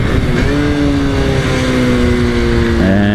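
A 2002 Honda Super Cub 90 motorcycle being ridden on a road, its small engine droning steadily with a humming tone that shifts slightly in pitch, close and loud, with wind rush and no talking.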